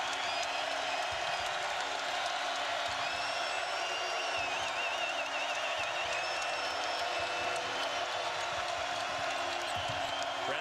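A basketball arena crowd at a men's college game swells into a broad, steady roar and cheer that holds at an even level from start to finish, with faint court noise beneath it.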